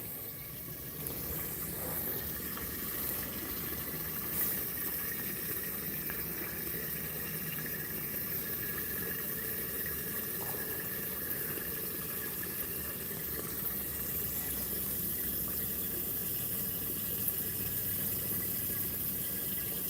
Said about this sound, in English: Put a little more water in there.